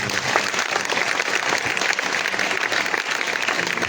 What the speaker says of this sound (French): Est-ce que tu peux acclamer le Seigneur pour cela?